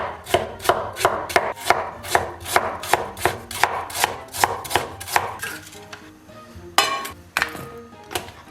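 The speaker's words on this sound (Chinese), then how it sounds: "接下来咱们切点葱姜蒜。" A knife chops scallions, ginger and garlic on a board in a series of sharp, evenly spaced close thwacks, pausing briefly before a few final quicker cuts.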